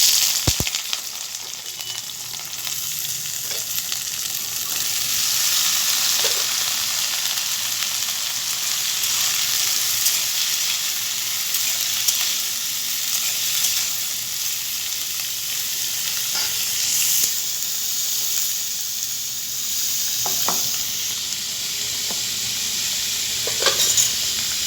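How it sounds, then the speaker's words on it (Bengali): Cut vegetables sizzle and crackle steadily in hot oil in a wok for lightly frying, a close, even hiss with occasional scrapes of stirring throughout. "ওগুলো আমি একটু হালকা ফ্রাই করে নেব।"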